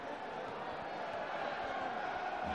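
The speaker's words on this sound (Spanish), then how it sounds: "O público está volcado co partido con ambos os dous conxuntos e aplaude as xogadas" A basketball arena crowd at a 1986/87 Copa Galicia final between Breogán and Feiraco, a steady, fairly soft wash of crowd noise and applause throughout, with no clear individual claps standing out.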